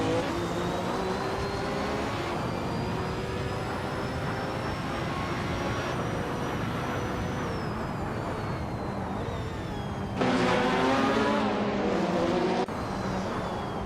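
Race car engine of a 1996 Ozella Honda ultralight racing model in a racing game, droning steadily throughout with rising and falling pitch, a sharper shift in tone near the end, and no talk over it.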